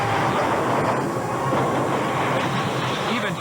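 A train rolls steadily toward a level crossing, its continuous rumbling roar and rail noise filling the scene loudly and evenly throughout.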